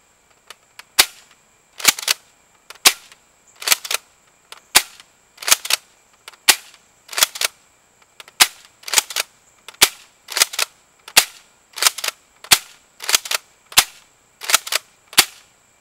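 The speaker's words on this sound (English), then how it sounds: "I'll do a couple flat shots. We'll go ahead and do those now." Blaster Pro S2500 toy blaster firing flat shots at shoulder height, about fifteen sharp cap-gun-like pops at a fairly steady pace, loud and close with no talking.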